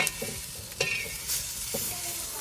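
Peanuts roasting in a stovetop pan give a short burst of dry rattling and scraping stir sounds over a faint sizzle, close and fairly loud.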